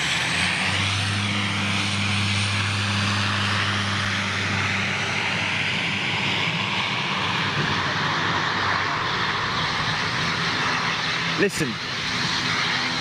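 A big jet on a flyby at home near Birmingham, its engine roar filling the air with a whine that keeps climbing in pitch, loud and steady throughout, with someone talking over it and a brief knock near the end.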